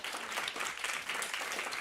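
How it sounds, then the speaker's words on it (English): Applause from a conference audience welcoming a speaker to the stage, a steady, even wash of clapping at moderate distance with no talk over it. "Please give him a round of applause"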